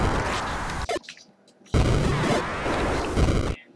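Bomb explosions in the video game Xaviar's Quest: two long, loud, harsh noisy bursts, each cutting off abruptly, separated by a short quieter gap.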